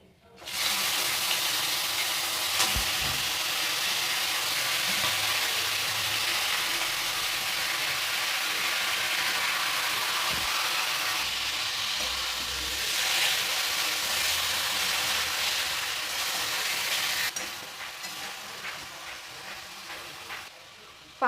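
Chicken frying in a pan for Bengali chicken biryani after cinnamon goes in: a steady, bright sizzle with a hiss like running water, continuous and close, easing off slightly toward the end.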